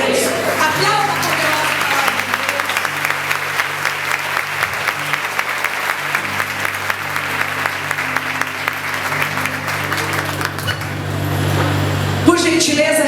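A congregation applauds at a church service after a scripture reading, sustained clapping over a steady sustained organ or keyboard tone, with a brief louder swell near the end.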